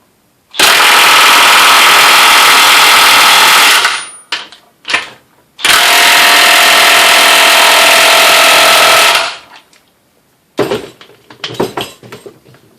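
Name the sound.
Dewalt DCF899 impact wrench loosening bolts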